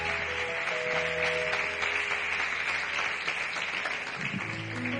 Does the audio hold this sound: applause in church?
yes